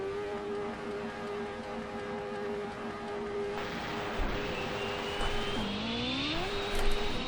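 A 1000 hp Mitsubishi Evo in Assetto Corsa holds a steady, loud engine drone in first gear, then revs up sharply and climbs through a rising pitch sweep as it pulls away, with a few brief bumps near the end.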